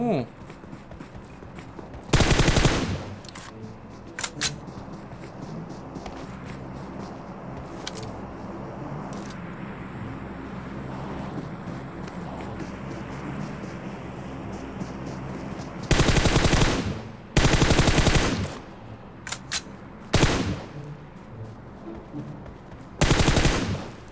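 A bot fires bursts in PUBG, with several loud, close automatic volleys spaced through the stretch, mostly clustered toward the end, while players talk over quieter game noise and footsteps.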